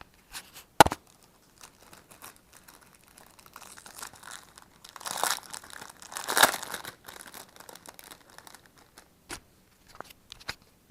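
Plastic packaging for a replacement dart head being unwrapped, with sharp crinkles, tearing and a snap, in irregular bursts close by, the loudest rustling near the middle and a few isolated clicks.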